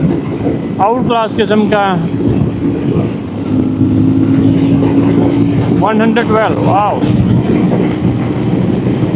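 A CFMOTO 450MT IBEX adventure motorcycle engine hums and revs steadily at close range, while someone speaks excitedly over it in short bursts.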